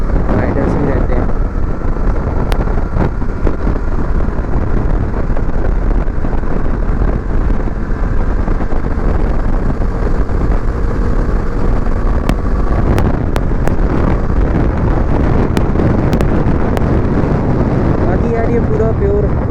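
Steady wind-buffeted engine and road roar from a Bajaj Pulsar NS400Z motorcycle ride, with iridium spark plug fitted, loud and continuous close to the rider, with a voice talking over it.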